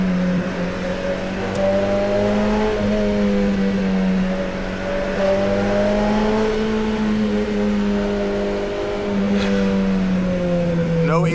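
A 1968 short-wheelbase car drives past on a Los Angeles street, its engine droning steadily with rising and falling revs under continuous road noise, fairly close and loud throughout.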